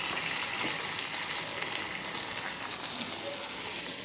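Hot tempering is poured into a pot of mutton kurma curry, giving a loud, close, steady sizzle and rushing hiss that lasts throughout, with no one talking.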